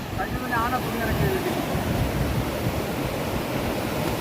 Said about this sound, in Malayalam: കണ്ടോ വെള്ളത്തിന്റെ ഒഴുക്ക് നിങ്ങൾക്ക് കാണാമെന്ന് ഇത്രയും ഒഴുക്കുള്ള പുഴയിലാണ്